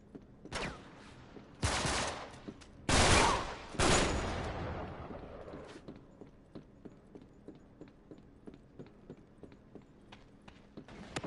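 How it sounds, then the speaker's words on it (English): Gunfire in the video game Uncharted 3: Drake's Deception: four heavy, loud bursts of shots in the first few seconds, followed by a long run of quieter, evenly spaced single shots or footstep-like clicks. "Who's shooting me?"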